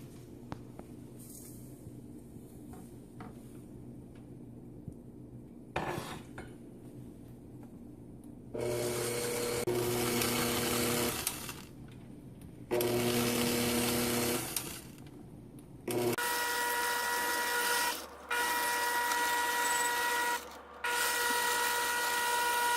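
An electric mixer creams softened butter and sugar for gluten-free vanilla cupcakes, running in several loud bursts separated by quieter pauses with faint handling clatter.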